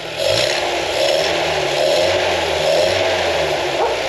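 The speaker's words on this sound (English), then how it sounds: "I'm going to rev the engine and we'll listen here" An old Land Rover Series 1 engine revs up and down in repeated pulses, a throaty rising and falling drone with mechanical clatter, close and loud.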